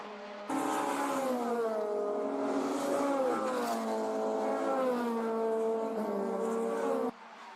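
Kilted K-swapped Honda Civic EG race cars howl around the Oulton Park circuit, a loud sustained engine note rising and falling through gear changes for about seven seconds before cutting off abruptly.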